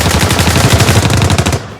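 Rapid bursts of automatic gunfire, loud and close, firing continuously in a dense rattling stream before cutting off abruptly.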